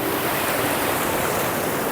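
Broadband rushing water of a cold river flowing steadily and close, a continuous splashing wash with no voices.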